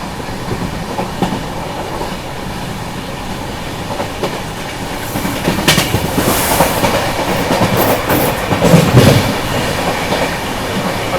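A passenger train passes alongside on the neighbouring track of a railway line toward Prayagraj, heard from aboard a slow-moving train: a loud, continuous rumble and wheel clatter that swells and grows busier in the second half.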